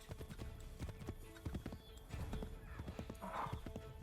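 Horse hooves clip-clop steadily in a rhythmic trot from Assassin's Creed III Remastered, joined by a brief whinny, moderately quiet under game ambience.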